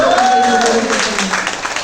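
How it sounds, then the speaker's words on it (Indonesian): Audience applause fills a teachers' talk show on deep learning, a dense, steady wash of clapping with some cheering voices rising near the start and lasting throughout. "Tepuk tangan."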